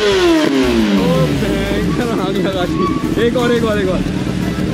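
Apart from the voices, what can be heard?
Kawasaki ZX10R motorcycle engine sound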